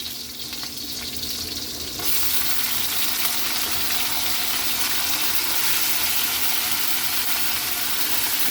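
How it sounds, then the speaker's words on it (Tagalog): Pork sautéing in a pan for pork paksiw sa gata, a steady loud sizzle and hiss that jumps up sharply after the meat goes in and then holds constant with faint stirring scrapes. "Gigisa muna natin ito siya kaili bago natin ilagay ang ating mga gulay at ang ating gata"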